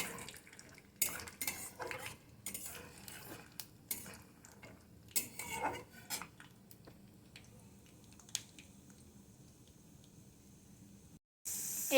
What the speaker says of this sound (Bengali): বাদামগুলো নেড়ে চেড়ে ভেজে নিতে হবে।